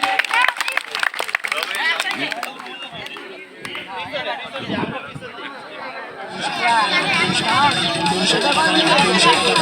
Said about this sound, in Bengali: এখন প্রথম এবং দ্বিতীয়র জন্য আমরা সবাই করতালি দেই, তাদের জন্য করতালি দেই।